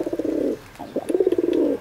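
A domestic pigeon coos in courtship, close and clear, two bursts of rapid throaty rolling coos separated by a brief pause.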